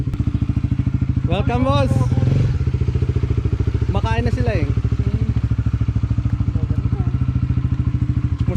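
A 125cc Vespa motor scooter idles close by with a steady, rapid engine putter throughout, while men exchange greetings over the running engine.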